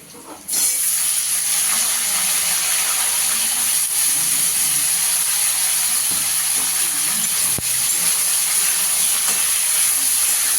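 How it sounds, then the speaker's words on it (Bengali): Vegetable stalks and potatoes frying together in oil. A loud, even, close sizzle starts abruptly after a brief quiet moment and holds steady to the end. "ডাঁটাটা দিয়ে একটু ভেজে নেবো।"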